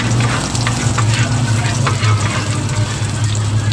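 Garlic fries in hot cooking oil on a home stove, a close, continuous crackling sizzle with bubbling pops that holds steady throughout, with no talk over it.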